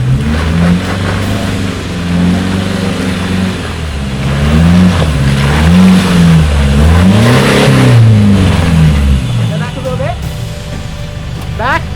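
A stock Isuzu D-Max engine labours and revs in rising and falling surges while the truck climbs a wet, slippery slope. The engine is loud and close, and people talk over it.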